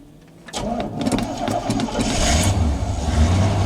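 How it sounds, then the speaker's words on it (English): A truck engine cranks briefly and catches, then settles into a loud, steady running rumble at close range. "So now I go to start the truck."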